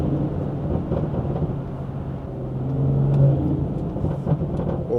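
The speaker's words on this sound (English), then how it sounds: "Y'all hear them shifts?" A car with a stage 2 BMW B58 engine drives with a deep, rumbling exhaust drone heard from inside, swelling as the revs climb and easing back around a gear shift.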